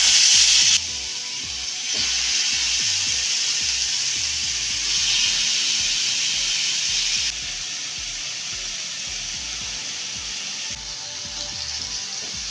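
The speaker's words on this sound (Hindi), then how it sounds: "अब इसको हम तलते हैं।" Marinated chicken tikka fries in a lightly oiled pan, a steady close hiss of sizzling that drops in level a few times, with no voices.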